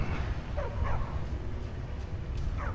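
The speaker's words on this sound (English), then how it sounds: "God damn dog." A dog in Skyrim barks and yips in several short bursts, fairly close, over a low rumbling game background.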